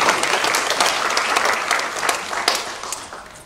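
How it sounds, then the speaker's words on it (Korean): A Korean church congregation bursts into loud, dense applause after a sermon, with close, sustained clapping that gradually tapers off toward the end. "박수도 쳐드리고 싶습니다."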